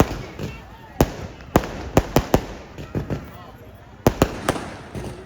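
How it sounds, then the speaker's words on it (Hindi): Firecrackers bursting at a wedding, a loud irregular series of sharp close bangs, some in quick clusters, over a murmuring crowd. "बहुत टाइम से पटाखे पटवा रहे हैं"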